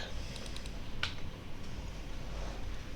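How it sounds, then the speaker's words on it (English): Keys on a computer keyboard are tapped in a quick, faint burst of soft clicks over a low background hum, close and quiet. "So I'm going to go ahead and start typing ViewPager."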